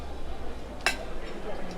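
A single bright clink of glasses touching, brief and close, over a quiet room background.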